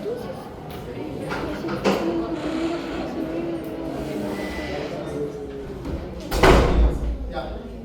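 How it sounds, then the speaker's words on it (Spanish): An indoor door closes with a solid thud late in the moment, heard amid ongoing classroom-style talk with a few lighter knocks earlier. "Esa es la puerta."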